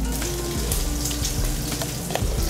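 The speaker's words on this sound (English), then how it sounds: "I'm gonna give this a whisk just to break up the eggs." Eggs and milk are whisked in a bowl for milk bread buns, giving a continuous close scraping and sloshing wet rattle with quick repeated strokes, no voices over it.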